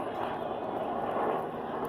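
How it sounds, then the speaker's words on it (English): A steady low roar of an NYPD helicopter flying overhead, droning evenly without a break. "Helicopters."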